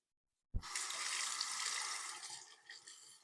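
Tap water gushes steadily into a sink for about three seconds, starting abruptly, while a single-edge razor is rinsed during a shave; the flow is close and fairly quiet, tapering slightly at the end.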